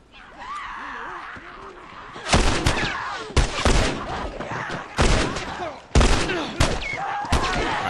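Gunshots from The Last of Us gameplay crack out in several loud, sharp bursts spaced about a second apart, with a player's voice and game sounds heard between them.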